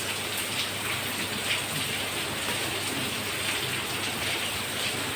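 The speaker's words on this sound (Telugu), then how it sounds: "చూడండి ఫ్రెండ్స్ బయట వర్షం చూడండి ఎలా పడుతుందో" Steady rain falling outside during a heavy, dust-raising downpour, a dense even hiss of drops hitting surfaces that holds constant throughout with no voices.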